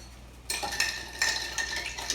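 A spoon stirs a ginger drink with a few quick, close metallic clinks and swishes against the cup, arriving in short bursts after a quiet start.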